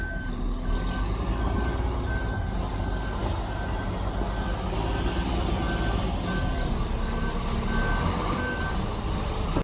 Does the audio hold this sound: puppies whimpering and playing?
no